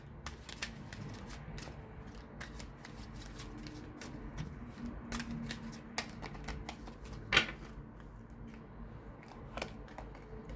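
Tarot cards being shuffled by hand give off a quiet, continuous run of soft riffling flicks and taps, close and faint, with no talk.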